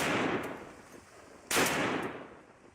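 A sniper rifle fires a shot into the dirt at an outdoor shooting range: one sharp, distant-sounding crack with a short decaying tail cuts through steady broadband noise midway.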